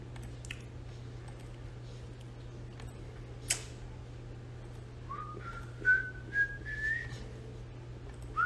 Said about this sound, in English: No, I'm whistling.